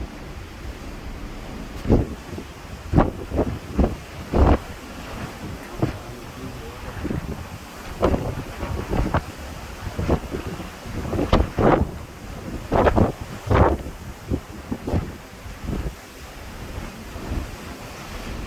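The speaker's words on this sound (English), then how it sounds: "it's very windy" Strong wind gusts buffet and roar continuously, with rushing bursts and surging sea noise underneath and occasional voices mixed in.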